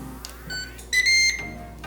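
Air fryer control panel beeping while temperature and timer are set, a few short electronic bleeps of differing pitch in quick succession, close and fairly clear over a low hum.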